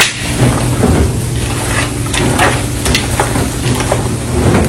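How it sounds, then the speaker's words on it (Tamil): Mutton pieces are mixed with tomato, masala and salt in a pot for a pressure-cooker mutton curry, giving a steady, dense scraping and sizzling stir that runs throughout, close up and without talk. "இப்போ கட் பண்ணி கழுவி வச்சிருக்க மட்டனில் போட்டு நல்லா மிக்ஸ் பண்ணுறோம்"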